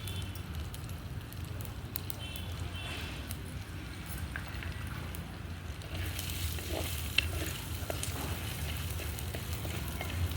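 Coriander seeds, mustard seeds, cumin and lentils fry in hot oil in a pan with a faint, continuous sizzle and occasional small pops and stirring scrapes, quiet throughout and without speech.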